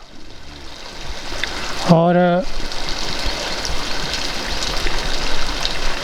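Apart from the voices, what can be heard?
water falling and trickling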